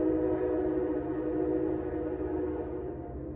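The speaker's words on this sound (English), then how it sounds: "there's trains out here too." A train rumbles past fairly close by, a continuous low, broad roar with a steady mechanical hum that holds level and then begins to fade toward the end, with no voices over it.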